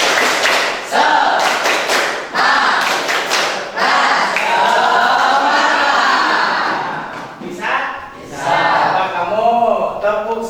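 A group does rhythmic Indonesian 'tepuk semangat' cheer clapping, sharp claps in quick patterned bursts near and loud, followed by voices shouting together.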